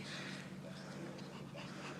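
A dog whimpers and pants close by in a steady, continuous breathy stretch over a noisy background, with no clear barks.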